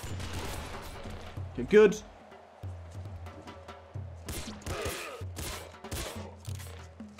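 Rapid, busy gunfire from a yo-yo gun in the video game Nuclear Throne, with thumps and clattering bursts over a droning game soundtrack, while someone speaks briefly.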